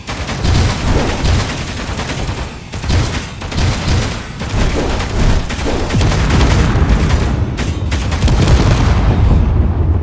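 Sustained automatic gunfire and booming blasts from drones attacking in Space Engineers, loud and dense, firing in continuous bursts with short gaps for the full stretch.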